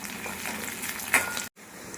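Spices and coriander fry in a pan for mutton gravy, giving a close, continuous sizzle with a short sharper crackle before a brief drop to near silence.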